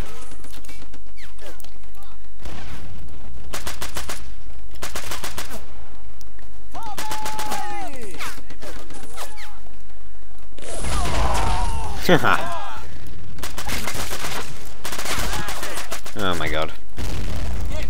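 Machine gun bursts and rifle shots crackle in a Men of War: Red Tide battle during the Crimean offensive at Theodosia, with loud booming impacts midway, interspersed with a man's spoken exclamations.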